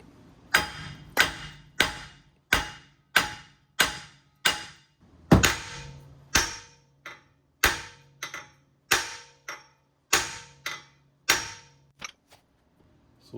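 Loud metallic hammer blows strike a tight-fitting drive shaft on a 2009 Lincoln MKS at a steady, regular pace, about a dozen ringing impacts in a row, close by with no speech.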